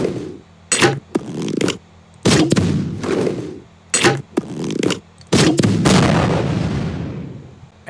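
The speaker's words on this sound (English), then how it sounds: "Weapon number nine is the crossbow launcher." A crossbow launcher fires in the video game Ravenfield: six or seven loud, sharp booming shots at uneven intervals, each trailing off briefly, the last with a longer rumbling tail.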